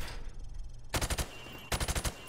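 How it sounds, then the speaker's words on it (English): Two rapid bursts of gunfire aimed at targets through wood in Call of Duty 4, each a quick string of about five sharp, loud shots separated by a short quiet pause. "I want you to shoot the targets through the wood."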